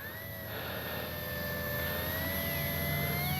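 An electric FMS 1700mm PA-18 Super Cub RC model plane on its maiden flight takes off, its motor and propeller holding a steady high whine that rises slightly in pitch and grows a bit louder, with no talk.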